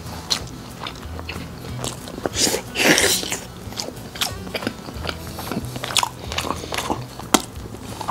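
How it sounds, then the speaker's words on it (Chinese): Someone eats a 7-Eleven eel bento of Taiwanese eel with Japanese kabayaki sauce over rice, with close, soft chewing and mouth sounds and a few sharper bites throughout, heard alone without talking. "那我们现在吃个鳗鱼便当啊"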